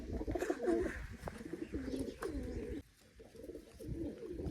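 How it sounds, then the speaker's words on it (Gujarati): Old pigeons coo in a low, throaty series of rolling calls, repeating steadily and fairly close with a short lull near the end. "બાકી આ આપણે જૂના કબૂતર એ તો આવી જ જાય"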